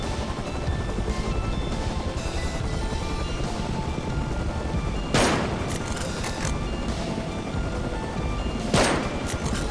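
Gunfire crackles through a Rust battle against an attack helicopter, a dense continuous din with two sharp louder bursts standing out, while players talk over the chaos.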